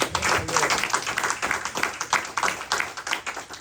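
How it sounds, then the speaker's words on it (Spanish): Church congregation applauding, a fairly quiet spread of many hands clapping with uneven rhythm and individual claps standing out, no speech over it. "Denle un aplauso a Cristo"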